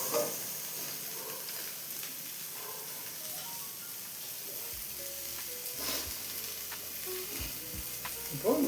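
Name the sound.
cabbage being sautéed and stirred in a pan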